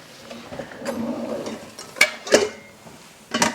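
Dishes and bowls clink and clatter nearby as a bowl is pulled out from a stack, with a few sharp knocks after a softer shuffling start, and no talking.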